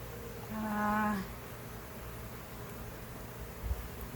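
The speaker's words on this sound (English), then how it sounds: "Don't kill the bees." A faint buzz of bees during a bee removal on a farm drifts by over steady background noise, briefly swelling before fading into a low hum.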